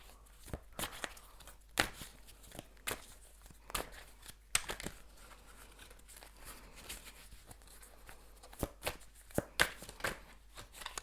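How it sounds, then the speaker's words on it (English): A deck of tarot cards is shuffled by hand up close, with irregular bursts of crisp riffling and slapping card sounds scattered across a quiet background. "I'm going to shuffle."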